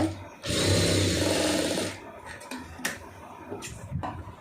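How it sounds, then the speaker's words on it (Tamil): A sewing machine runs a stitch around a fabric piece while a boat neck is being sewn. It makes one steady, close, loud burst of about a second and a half, then gives way to quieter handling sounds and a voice. "கீழே ஒரு பிட்டு வச்சுருக்கோமே அதில் சுற்றி முதல்ல ஒரு தையல் ஓட்டிடுங்க"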